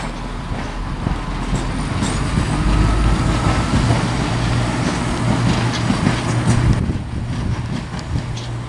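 Two Class 170 diesel multiple units, 170-517 and 170-515, rumble past at Shrewsbury, a steady close low drone with rail clatter that holds for several seconds before easing slightly.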